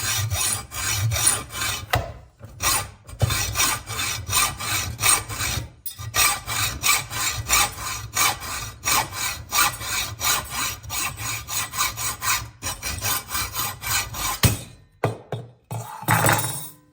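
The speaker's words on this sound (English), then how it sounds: "put the brass back into the vise, and I'm going to cut off the end of the brass where the primer is" A brass cartridge case clamped in a vise is sawn through near its primer end, a steady rasping back-and-forth cutting rhythm running loud and close for most of the span with a few brief pauses.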